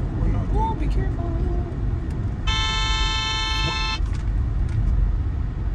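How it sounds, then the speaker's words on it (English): A car horn blares once in a long sustained honk amid busy city traffic, heard from inside a moving car over engine rumble and road noise, with people talking nearby. "The way they use their horn, they should pay extra for it."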